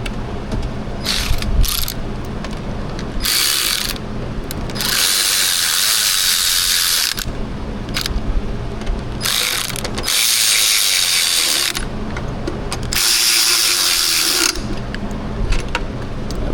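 A ratchet wrench removes nuts on a Toyota 4.7 V8 engine, giving close, rapid clicking in repeated bursts. Brief pauses separate the runs as the tool is reset.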